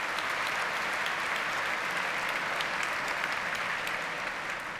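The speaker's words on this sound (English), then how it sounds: "Ladies and gentlemen, a round of applause for @Boris." Dense, sustained applause from a large conference audience greeting a speaker at a tech conference grand opening, loud and even for several seconds with no talking.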